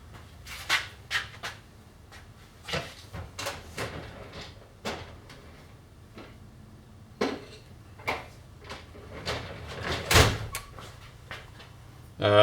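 An AR-15 .223 rifle is broken open by hand, giving a series of sharp metallic clicks and clacks at irregular intervals, fairly close and quiet, with no talk.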